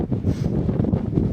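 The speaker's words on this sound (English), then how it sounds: "certainly very windy" Strong wind buffeting and roaring across a microphone, a steady low rumble with gusty swells.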